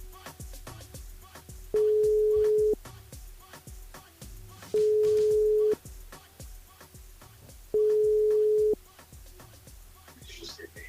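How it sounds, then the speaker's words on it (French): A telephone line rings out three times at even intervals, each long electronic tone about a second, as a radio host calls a listener live on air; faint background noise sits between the rings. "il va déjà appeler Charles du côté du sud de Tampon"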